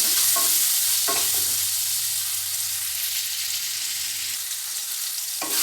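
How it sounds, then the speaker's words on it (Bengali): Potato pieces with turmeric are lightly stir-fried in a pan, giving a continuous close sizzle with a few soft scrapes and knocks of the spatula and no voices. "আলুটা হালকা করে কষিয়ে নেবো"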